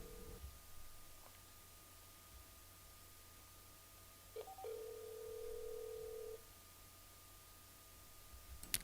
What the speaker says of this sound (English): So bear with me just one moment, and we'll get Stephen Ovens on the phone.